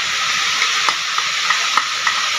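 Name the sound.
ginger garlic paste frying with mutton in a wok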